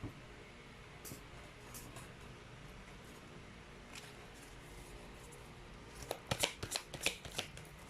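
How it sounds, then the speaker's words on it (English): Tarot cards being handled and shuffled close up: quiet soft rustles, then a quick run of crisp riffling snaps near the end, with no talking. "let's pull up another set of cards"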